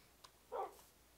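A dog in Minecraft gives a single short bark, faint and somewhat distant, with a small click just before it in otherwise quiet game surroundings.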